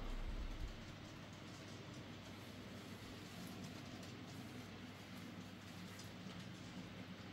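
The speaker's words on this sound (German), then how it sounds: "wenn wir hier noch jeweils eine schöne Vorbeifahrt einer V160 der HVLE haben" A TT-scale model train with an HVLE V160 diesel locomotive passes by, a steady rolling rumble with light clickety-clack from the wheels, close and continuous throughout with no talking.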